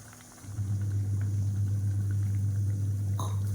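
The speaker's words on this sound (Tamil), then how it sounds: "இப்போ இந்த குழம்பு வந்து நல்லா கொதிக்கும் போது" A steady bubbling simmer of thick curry gravy made with coconut and cashew paste in a pot, with a constant low hum from the stove underneath.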